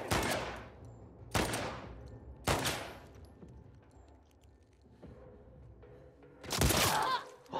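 Gunfire in The Last of Us Part II: four loud, sharp bursts of shots spaced through the scene, each trailing off into a ringing decay, with the last one the densest and brightest.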